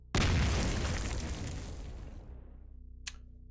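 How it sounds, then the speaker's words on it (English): Explosion in the video game Cataclysm DDA: a single heavy boom bursts out and rumbles away over about two seconds, followed by a brief faint tick. "What the hell could have made an explosion like that?"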